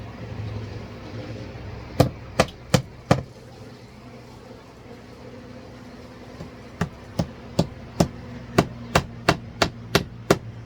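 Hammer blows drive nails while vinyl siding is hung: four sharp strikes in quick succession, a pause, then a steady run of about ten evenly spaced blows, close and crisp over a low background hum.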